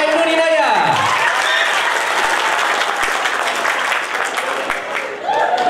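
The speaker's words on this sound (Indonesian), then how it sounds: "Jangan ditahan-tahan ya tepuk tangannya ya." Crowd applause at an Islamic boarding school graduation ceremony, steady and close, filling the space continuously, with a sliding tone and a speaking voice at the start and more talk at the end.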